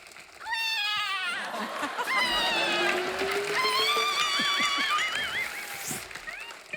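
A person imitates a kitten with a series of high, wavering mews and squeaky cries, close and fairly loud, with murmuring voices and crowd noise underneath.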